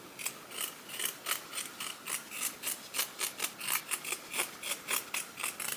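Scissors cutting away excess fabric from a small doll coat: a close, steady series of crisp snipping strokes, about three per second, each a short rasping slice, with no talk over it.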